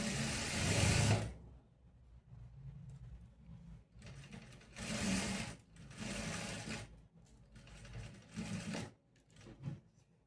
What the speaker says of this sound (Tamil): மடிச்சுட்டு ஸ்டிச் பண்ணுறேன்